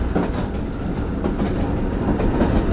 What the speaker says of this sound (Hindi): पास हो रही है ट्रेन हमारी।